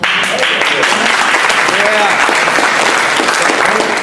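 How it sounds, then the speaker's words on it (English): A loud, sustained round of audience applause at a blues panel discussion, a continuous dense clapping crowd with a voice faintly audible through it. "So hold your applause a minute"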